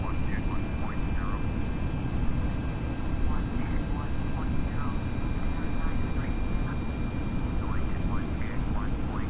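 Regional jet engines in Flight Simulator X drone in a steady, dense roar through the whole stretch, with faint high chirping sounds scattered over the top.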